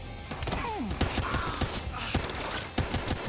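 Repeated gunshots from the PS4 shooter Battlefield Hardline crack out in an irregular burst, several loud close shots spaced through the stretch over a busy game-world background with a faint whistling sweep.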